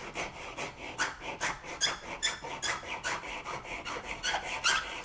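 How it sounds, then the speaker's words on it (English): A hand file rasping on wood during instrument inlay work in a luthier's workshop, quick, even back-and-forth strokes in a steady rhythm, close and fairly soft. "whether it is the sound of a file going"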